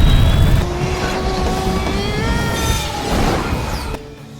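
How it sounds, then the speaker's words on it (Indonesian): Cinematic whoosh and jet-engine roar of a flying armored suit, loud from the start, with shifting whistling tones that rise and swell before cutting off near the end. "Iron Suit-nya bisa terbang layaknya pesawat jet."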